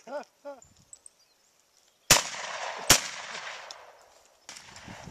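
Shotguns fired during a dove hunt: two loud, sharp blasts in quick succession, each trailing a rumbling outdoor echo, then a third shot near the end. Brief bird calls come before the shots.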